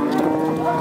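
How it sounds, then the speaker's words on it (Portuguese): A cow lows at a dairy cattle fair, a short, close, loud moo with crowd noise and voices around it. "é uma vaca novia"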